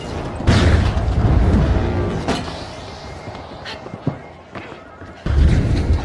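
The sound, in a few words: frag grenade explosion in video game The Finals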